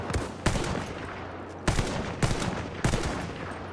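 Gunfire in Battlefield 1 on the Sinai Desert conquest map, four sharp loud bursts of rapid automatic shots spaced about a second apart, each decaying quickly over a constant background rumble.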